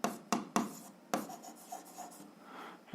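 Pen or pencil writing on paper during a math lesson: close scratchy strokes with a few sharp taps near the start, then softer continuous scribbling.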